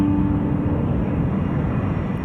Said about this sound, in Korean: 플로리다로 향하고 있는 L1011 트라이스타는 세계 최고의 첨단 여객기였습니다.